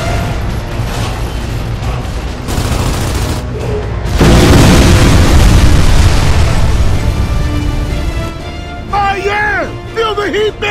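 Fuel tank blowing up in Gears of War 3: a deep, sustained rumbling boom swells to loud near the middle amid ongoing battle gunfire, then fades as voices shout over the noise.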